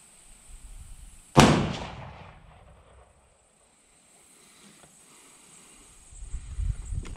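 A single loud rifle shot from a 25 Creedmoor loaded with 41.6 grains of Vihtavuori N555 powder cracks sharply and fades into a decaying echo outdoors, followed by quiet and faint low rumble.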